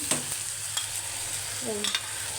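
Mustard paste, garlic paste, turmeric and salt being stirred into fried onions in a pan, with a soft continuous sizzle and a few scraping stirs close up.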